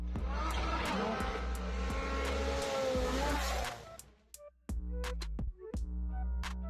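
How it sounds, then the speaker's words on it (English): A rally car roars loudly at full throttle, the engine note surging and then cutting out abruptly, followed by sharp thuds and clatters as it comes down, with the engine revving again in short bursts afterward. "The rally car soared through the air so spectacularly after the jump it seemed to pause, contemplating whether to land at all."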